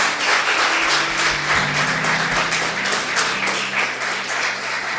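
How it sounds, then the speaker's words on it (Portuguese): A church congregation applauding loudly and steadily for several seconds, dense overlapping claps filling the space, with a low sustained tone underneath. "Vamos aplaudir Jesus bem forte."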